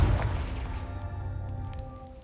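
A Confringo spell blast in the video game Hogwarts Legacy bursts with a deep boom, then a shimmering, ringing magical tail that fades slowly over a couple of seconds, with no voices.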